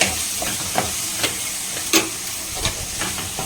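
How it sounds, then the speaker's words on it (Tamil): Green chillies and tomato sautéing in a pan on high flame give a continuous loud hiss, with occasional light clinks and pops from stirring. "பச்சை மிளகாவும் இப்போ ஹை ஃப்ளேம் பண்ணிட்டேங்க. நல்லா வதங்கிட்டு இருக்கு."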